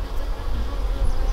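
A low, continuous honeybee drone buzz drones up close at an apiary, steady and loud throughout.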